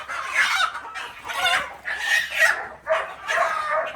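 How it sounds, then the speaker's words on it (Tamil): A rooster squawks loudly in repeated harsh, frantic bursts after being caught on a farm, close up, with short gaps between each cry. "அதுவும் சேவலாக பார்த்து பிடிச்சிருக்காரு. பயங்கரமாக கத்துறாப்புல."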